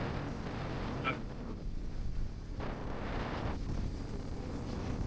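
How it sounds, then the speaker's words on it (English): Strong hurricane wind from Hurricane Helene buffets the microphone in a steady roar, with heavier gusts surging and easing throughout; no voices. "Still getting some pretty serious winds."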